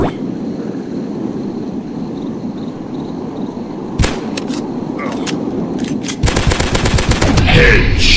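Gunfire in a dinosaur hunting video game: a sharp shot cracks out, then a few more scattered shots, and near the end a rapid, loud burst of repeated fire rises over a steady rumbling backdrop.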